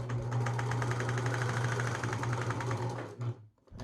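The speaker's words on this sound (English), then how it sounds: "I'm going to do a straight stitch first." A Husqvarna Viking 190 sewing machine runs a straight stitch with a steady, fast mechanical whir and rapid needle clatter, then slows and stops near the end.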